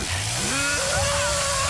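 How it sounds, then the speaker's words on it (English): Chainsaw in The Texas Chain Saw Massacre video game revs from a low sputter up to a higher steady drone under a dense, noisy game soundscape, lasting under two seconds. "I'm going to test my chainsaw out."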